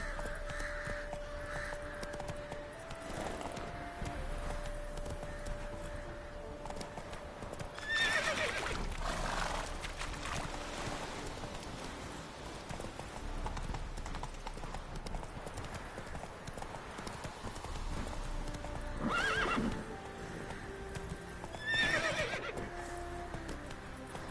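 Hooves clip-clop at a steady gallop from a horse in The Witcher 3, with several loud neighs and whinnies breaking through and crows cawing in the background.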